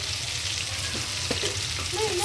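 Dried red chillies fry in oil in a pan for brinjal curry, a steady close sizzle and crackle throughout, with faint stirring scrapes.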